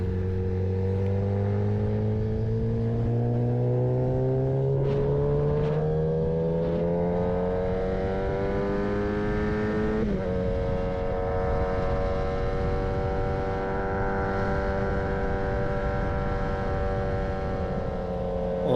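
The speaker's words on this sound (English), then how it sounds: "with the two teeth down in the front sprocket, it's a hell of a lot better acceleration too" A Yamaha FZ1 motorcycle, geared two teeth down on the front sprocket, revs up loudly and steadily with rising engine pitch, shifts once midway, then keeps pulling hard with a sustained close-up engine roar.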